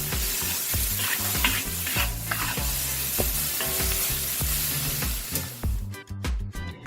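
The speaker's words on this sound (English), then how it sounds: "Add a bit of water to help in the cooking and carry on frying the beans." Long beans with dried prawns sizzle and fry steadily in a hot wok, with repeated scraping and tossing of a spatula throughout, close and busy.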